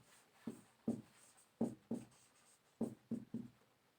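Chalk taps and scratches on a board during a maths lesson, short sharp strokes in quick irregular bursts, quiet and close, with no talk over them.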